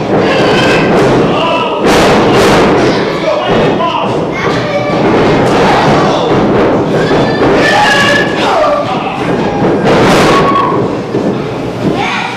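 Heavy thuds from pro wrestlers striking each other in the ring at a Great Lakes Professional Wrestling match, loud repeated impacts under busy crowd noise and commentary.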